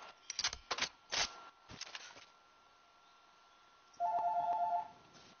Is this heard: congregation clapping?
no